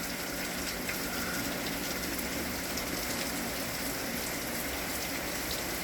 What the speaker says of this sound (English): So yeah, raining real good.